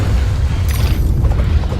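Cannon tower firing in the video game Alice: Madness Returns, a deep booming rumble that carries on steadily through the short stretch, fairly loud and close, with no voices over it.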